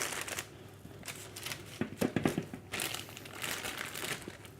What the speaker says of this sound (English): So I'm going to cut this bag open